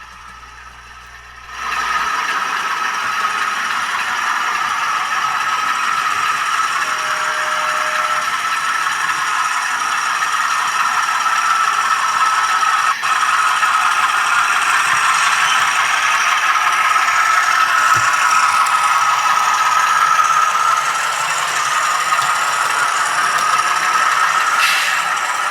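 Rapido MLW M420 model locomotive running a track loop over a trestle, giving a steady, continuous close rattling and clattering mechanical whir that holds evenly for most of the run, with no talk.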